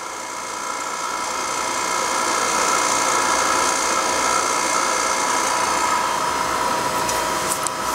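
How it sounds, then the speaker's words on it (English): Turbomolecular vacuum pump spinning down after being switched off, a steady high whine with dense broadband hum that holds loud and continuous throughout, with faint high ticks near the end. "First thing you do is turn off your turbo pump."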